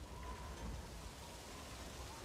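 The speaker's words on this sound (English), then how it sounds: "now you notice it's started to rain" Steady rain falling in Metal Gear Solid V: The Phantom Pain's dynamic weather, a faint continuous hiss of drops on the surroundings with no other distinct sounds.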